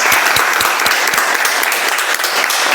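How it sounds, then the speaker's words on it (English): Steady round of applause from a meeting audience honoring speakers and evaluators, dense and continuous clapping with a few sharper individual claps standing out near the start. "Let's have a round of applause for all the speakers and evaluators."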